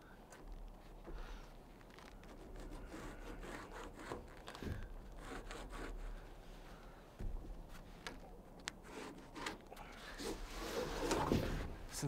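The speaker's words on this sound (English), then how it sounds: "each board I'm planing down a little bit" Rough sawn cabin boards, warped and twisted, are planed down by hand, giving a steady run of scraping, rasping wood strokes that come close and fairly loud, with a few sharper knocks along the way and no talking.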